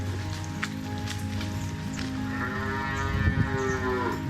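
Farm cattle on Kuroshima island give a long, loud moo that swells and wavers partway through, heard up close over constant outdoor background noise.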